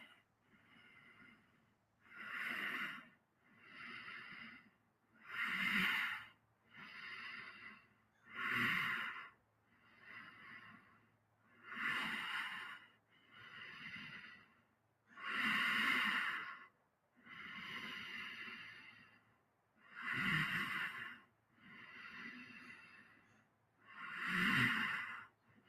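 Slow, rhythmic breaths during a guided breathing exercise, each exhale a distinct airy rush repeated about a dozen times over the stretch, close and clear with no talking between them.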